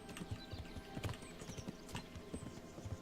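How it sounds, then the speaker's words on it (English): Horse hooves clip-clop steadily in Kingdom Come: Deliverance, a rhythmic run of close, distinct hoof strikes with occasional faint mechanical rattles, no talking. "Joseph, he says Pebbles is a kind horse"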